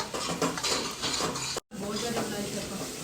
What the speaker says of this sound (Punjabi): ਹੁਣ ਆਪਾਂ ਇਹਦੇ ਵਿੱਚ ਲਸਣ ਲਾ ਦਈਏ ਇਹਨੂੰ ਕੁਛ ਚਿਰ ਆਪਾਂ ਭੁੰਨਾਂਗੇ